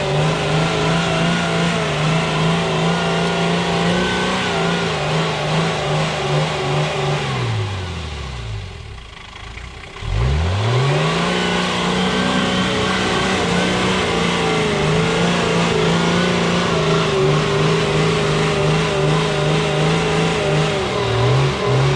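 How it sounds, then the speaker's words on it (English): Toyota HJ47 Land Cruiser ute with a 2H naturally aspirated diesel engine running, a steady, loud mid-pitched drone that dips sharply and briefly cuts low around the middle, then climbs back and holds. "She has a 2H naturally aspirated diesel engine,"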